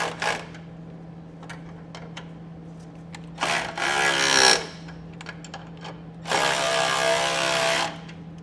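Ratchet wrench with a 9/16 socket snugs down U-bolt nuts while installing air helper springs on a 2017 Ram ProMaster, giving two bursts of rapid clicking between quieter taps and handling noises, close and alone.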